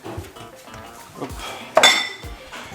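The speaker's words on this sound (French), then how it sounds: "je vais remplir la vaisselle" Dishes being loaded into a home dishwasher: a run of scattered clinks and clatters of plates and cutlery at close range, with one sharper, louder clang late on.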